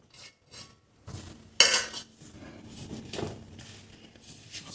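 Roasted chickpeas and soybeans are stirred with broken jaggery in a pan, giving clinking metal spoon scrapes and knocks against the pan, with one louder clatter partway through and softer intermittent stirring after.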